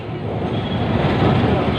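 Kolkata tram rolling along toward Gariahat, a loud, steady rumble of wheels and motor with constant road and cabin noise filling the whole stretch.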